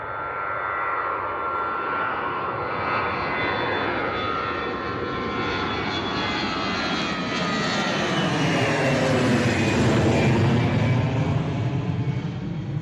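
EasyJet Airbus A320 with CFM56 engines on its takeoff roll down runway 09 at Bristol Airport, a steady loud jet roar that swells and rises in pitch as the aircraft approaches and passes close by.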